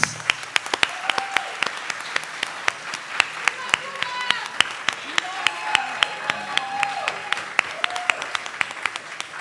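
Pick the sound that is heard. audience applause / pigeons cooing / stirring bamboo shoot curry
audience applause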